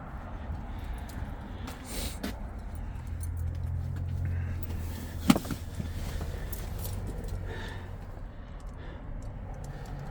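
Keys jangle faintly beside a Ford Transit Connect van as they are handled, with soft metallic rattles and one sharper clink partway through, set against a low rumble of engine or traffic.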